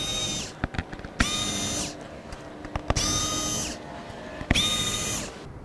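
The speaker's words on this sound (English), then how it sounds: "Just to speed things up, I'm going to use a powered driver here." A cordless powered driver backs out Phillips head screws holding the door speakers of a 1990-1997 Mazda Miata, with four separate close whirring bursts and quiet clicks and handling noises in between.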